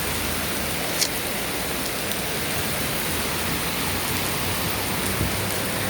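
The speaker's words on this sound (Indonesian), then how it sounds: "hujannya sangat deras" Heavy rain pouring down in Hong Kong, a dense, loud, unbroken roar of water with a couple of faint knocks, close and steady from start to end.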